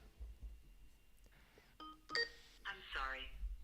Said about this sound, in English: Let me call this person back.